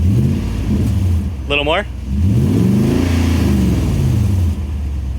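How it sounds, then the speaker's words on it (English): A car fitted with a Magnaflow catback exhaust revs up in a quick rising swell, then settles into a steady mid-pitched drone as people talk nearby. "Give it a quick rev."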